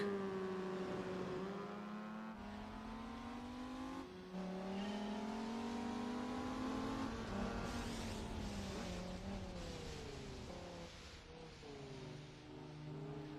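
Mazda RX-8 rotary engine in Gran Turismo 4, a loud, steady high revving drone whose pitch climbs and falls through gear changes, racing alone with no talk.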